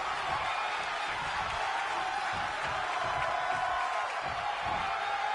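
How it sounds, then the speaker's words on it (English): Arena crowd noise from a wrestling match in the video game WWE 2K25, a steady, dense roar of cheering that holds at an even level throughout with no commentary over it. "And the crowd here behind Tim Rage."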